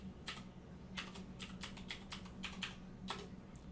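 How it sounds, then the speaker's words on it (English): A password typed on a computer keyboard, quick irregular clicks of keys in short bursts, close and quiet with a low hum beneath, no talking. "type in my password"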